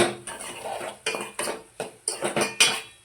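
Metal spoon scraping and clanking against a pan while stirring a potato fry seasoned with salt and chili powder, about seven sharp knocks and scrapes in an uneven rhythm, close and loud.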